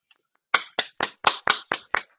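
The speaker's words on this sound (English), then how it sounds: "Boys, I think we need a collective applause." Podcast hosts applaud together, seven crisp, evenly spaced claps at close range, loud and alone without talk.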